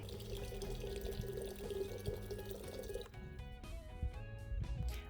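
Water running and splashing in a shower, a continuous close rush with dripping and spattering that grows more broken and irregular toward the end, no voices.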